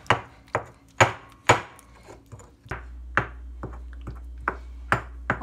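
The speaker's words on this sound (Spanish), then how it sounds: "Y así vamos a hacer con todos nuestros jitomates hasta que terminemos a molerlos todos" Tomatoes are crushed in a stone molcajete, sharp knocking strikes of the pestle landing about twice a second, close and distinct, with a low hum joining partway through.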